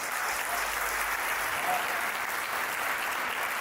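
An audience at a poetry recital celebrating Jain dharma for Mahavir Jayanti claps in a steady, dense burst of applause that fills the hall evenly from start to finish.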